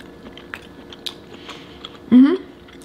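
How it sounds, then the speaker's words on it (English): Someone eats a scallop with spicy sauce at a mukbang table, with soft chewing and small bites through most of the stretch and one louder close burst near the end. "I'm just gonna start with a scallop."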